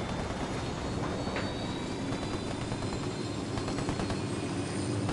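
Helicopter rotor and engine drone in a military shooter video game, a loud, steady broadband roar filling the whole stretch with no break.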